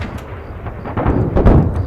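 In the Arma 3 video game, a rocket artillery barrage pounds buildings with a rolling, rumbling series of heavy thuds and blasts, growing louder and denser toward the end.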